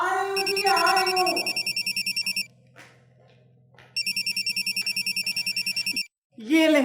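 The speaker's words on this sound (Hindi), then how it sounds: "और मेरा फोन बज रहा है" A mobile phone rings in a household drama scene, its electronic ringtone pulsing in two loud bursts separated by a short pause, with a voice talking at the start and again at the end.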